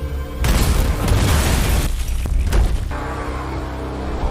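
A loud gunshot in a film bursts out and its heavy rumble lingers for a few seconds before easing off.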